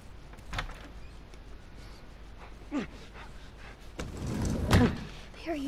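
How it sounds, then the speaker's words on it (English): A door being opened in The Last of Us Remastered prologue: a few faint knocks and small movements, then a louder creaking, thudding swing near the end, with quiet breaths and gasps. "Ominously open the door."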